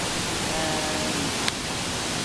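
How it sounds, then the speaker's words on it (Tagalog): Steady broadband rush of Kalanay Falls, a waterfall in Palanas, Masbate, filling the whole stretch as an even, continuous roar with a brief click near the middle and no voices. "Kalanay, Falls."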